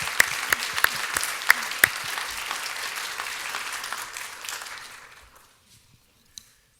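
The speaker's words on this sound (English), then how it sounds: "Let's give Scott, Norma, and Keith a round of applause" Applause from a lecture audience, dense clapping with a few sharp individual claps standing out, fading away to near silence by the end.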